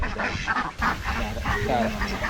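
Kuttanad ducks of the Chara and Chemballi breeds quack and honk loudly in a close flock, calls overlapping continuously while someone talks over them.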